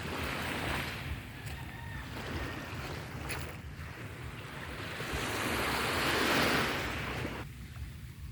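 Sea waves rolling in at high tide on the coast of Antique province, a steady broadband wash of surf mixed with wind, swelling louder around the middle before easing, with no talking.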